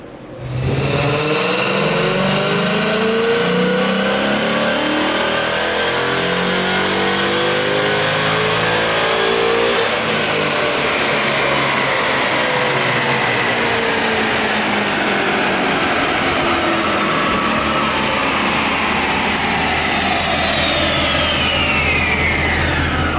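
Nitrous-fed Gen 3 Coyote V8 in a Mustang revving hard on a dyno, one loud sustained run that climbs in pitch and then holds a steady roar with a whining sweep, close and alone without talk.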